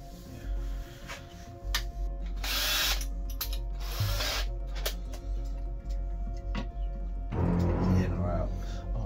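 Power drill biting into the casing of a cheap tape player while parts are mounted: short bursts of grinding whir over a steady low hum, with people talking nearby.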